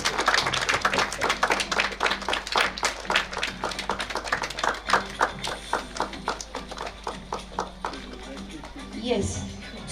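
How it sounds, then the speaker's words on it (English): Audience applause at a school annual day, a crowd clapping in a loose, fast patter that thins out and fades toward the end, with a voice briefly heard. "I request the gathering to give a loud applause."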